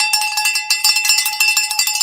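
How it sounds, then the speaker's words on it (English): A bright metallic bell rings in a fast run of repeated strikes, loud and close, on a livestream celebrating a vaccine update, with no talking over it. "Let's get a vaccine bell for that."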